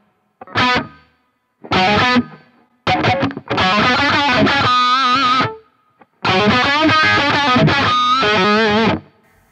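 Distorted electric guitar through a Line 6 Helix plate reverb plays phrases separated by short gaps, each note washed in a bright, lingering reverb tail.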